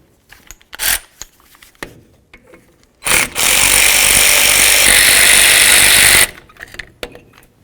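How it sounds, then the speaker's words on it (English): A power tool with a 10mm socket removes the wheel cylinder bolts on a 1992-99 GMC K1500 brake backing plate, whirring loudly for about three seconds between scattered clicks and ratchet-like knocks. "Now we're going to remove the bolts that hold the wheel cylinder to the backing plate using a 10mm."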